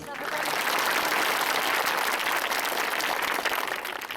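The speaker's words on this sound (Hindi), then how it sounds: "तालियों की गड़गड़ाहट सुनी आपने?" Dense, thunderous applause from a crowd of villagers in Jharkhand, a steady roar of many hands clapping at once that stays loud and unbroken from start to finish.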